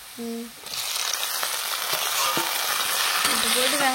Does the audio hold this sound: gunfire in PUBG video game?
no